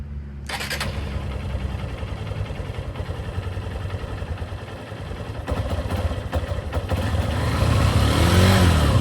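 A motorcycle engine on a breakdown stop during a long-distance ride in Alabama revs steadily, a continuous close rumble that builds louder toward the end with no talking over it.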